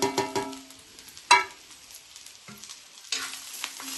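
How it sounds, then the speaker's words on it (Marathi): Fresh and dry coconut with ginger and garlic roasting in a pan, with scattered spatula scrapes and knocks over a faint sizzle, alone with no talking. "त्याच्यात आता मी एक वाटी ओलं खोबरं अर्धी वाटी सुक खोबरं आलं लसूण ह्याच्यात टाकते भाजायला"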